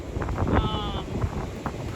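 Strong wind buffets the microphone on a beach in South Carolina, a low, steady rumble with gusty bumps and faint background sounds.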